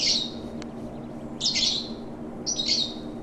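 Chirpy bird calls from the video game Path of Titans come in three short bursts separated by pauses, fairly close and clear over a steady low background hum.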